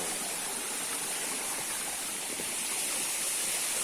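Clear, ice-cold spring water rushes steadily nearby in a continuous broadband wash, with no talk over it.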